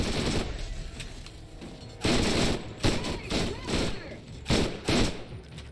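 Submachine gun fire in Borderlands, several loud close rapid bursts separated by short pauses, with a few gunshots and thuds between them over steady background game noise.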